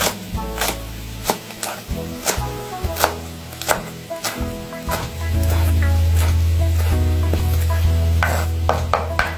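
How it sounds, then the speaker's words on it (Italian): Parsley is chopped with a knife on a board, a series of sharp close knocks in an uneven rhythm, with a lower steady hum joining midway through. "Adesso andiamo a sminuzzare sia il prezzemolo che la salsa."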